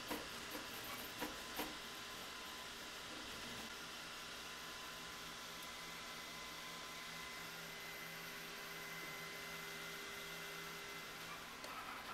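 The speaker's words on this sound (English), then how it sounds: "the InfinityFlow 3D Auto Filament Changer moving successfully from an empty roll to a fresh roll" An InfinityFlow3D S1 auto filament changer on a Creality Ender 5 MAX 3D printer switches from an empty spool to a fresh one, giving a steady, faint mechanical whir with a few light clicks near the start.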